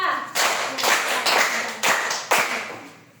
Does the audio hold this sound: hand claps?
yes